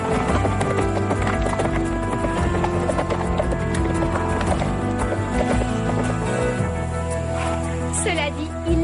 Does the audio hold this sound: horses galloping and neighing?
yes